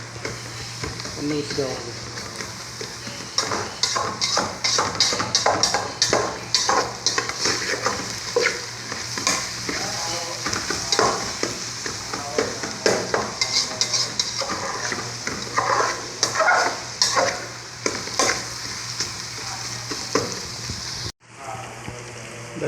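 Ginger, garlic and onion frying and being stirred in a pan, with a steady sizzle and frequent scraping spoon strokes throughout, close and loud, and a brief voice near the end.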